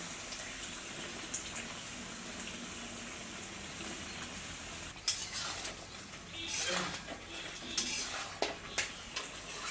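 Pangas fish from the Ghaghat river fries in spice paste in a pan, a low steady sizzle that turns into louder scraping and clattering stirs in the second half, close and without talk.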